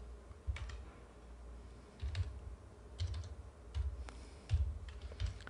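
Close, soft keystrokes clatter on a computer keyboard in short, uneven bursts of typing with brief pauses between them.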